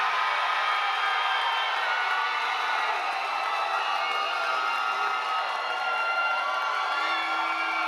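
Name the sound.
MMA crowd applauding and cheering for fighter Marcelo Perez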